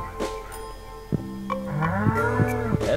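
Cows low repeatedly in Stardew Valley, several drawn-out moos in succession over a steady farm game backdrop, fairly close and clear with no talk.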